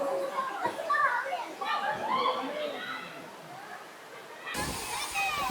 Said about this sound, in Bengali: অনেকেই এখানে এসে স্নান করছেন।